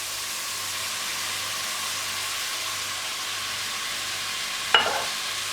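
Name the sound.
asparagus sautéing in pan with ham, porcini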